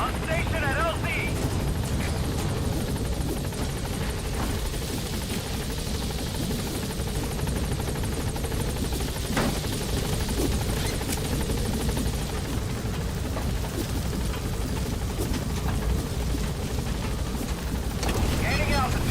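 Helicopter rotor and engine drone, steady and loud throughout, arriving at a landing zone in a video game, with a radio voice talking over it.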